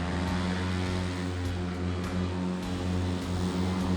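A propeller airplane engine roars steadily at full takeoff power, a loud continuous drone with a throbbing low hum and no pauses.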